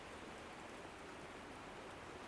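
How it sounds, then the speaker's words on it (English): Steady rain hisses evenly throughout in the video game Wuthering Waves, a faint, dense wash of falling drops with no other sounds. "Are you trapped here by the rain?"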